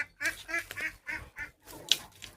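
Repeated raspy duck quacks in quick bursts, fairly close, with short pauses between calls.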